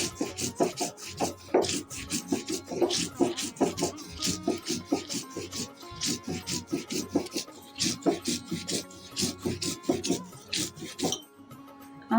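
Soaked mustard seeds ground on a stone grinding slab for a Bengali hilsa recipe, a steady rhythmic scraping and rubbing back and forth, close and continuous until a brief stop at the end.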